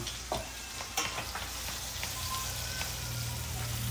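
Steaks sizzle in a hot frying pan while being basted with fat, a dense continuous crackle with occasional spoon or pan clinks, close and loud, no talk.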